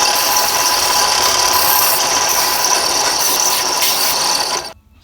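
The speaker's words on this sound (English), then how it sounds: "correct it on both sides and sand it off so it's all good" A power sander works a wooden fishing lure bait, giving a loud, steady whirring buzz with rattling vibration that runs continuously and then cuts off abruptly near the end.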